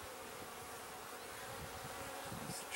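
Honeybees and larger drones hum in a dense, continuous buzz at a newly installed nucleus hive, a steady close swarm drone with no voices.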